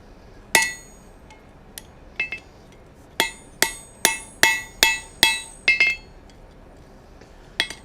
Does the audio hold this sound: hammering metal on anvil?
yes